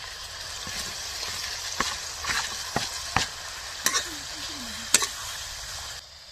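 Chopped tomatoes and onion sizzle steadily in a pan of frying spice paste, with a spoon scraping and knocking in irregular clicks and stirs close by.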